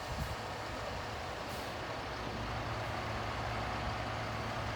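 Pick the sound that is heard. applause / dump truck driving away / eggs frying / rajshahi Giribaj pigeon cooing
dump truck driving away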